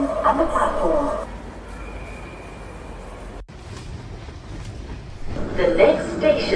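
London Underground train standing at a station platform, a steady low rumble and hum throughout with a brief dropout midway, while a recorded announcement voice speaks at the start and end.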